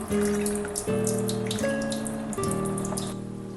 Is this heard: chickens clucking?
no